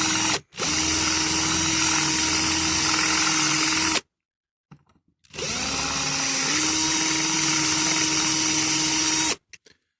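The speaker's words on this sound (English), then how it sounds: "This drill's not very sharp, so don't worry too much about it" An electric drill bores out a rivet on a Corgi ERF dump truck model in two long, steady whining bursts close up, with a short pause between them.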